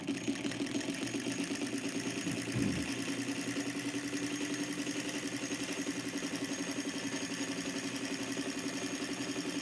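An antique Froment-type electric motor with gear reduction runs steadily and alone, giving a continuous mid-pitched hum with a fast mechanical ripple and one brief knock early on.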